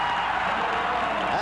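A huge crowd of some 380,000 at the 1980 Indianapolis 500 roars in a dense, continuous wall of cheering right after the start command, loud and sustained with no distinct voices.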